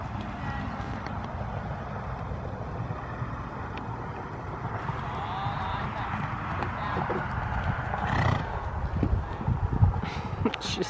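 A horse walks and then canters in a riding session, its hooves making soft, rhythmic clip-clops that grow more pronounced near the end, with people talking over them.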